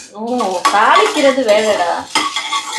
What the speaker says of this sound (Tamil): இங்கே என்னமோ வந்து தாளிக்கிறாங்க